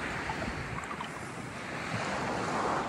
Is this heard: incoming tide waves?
yes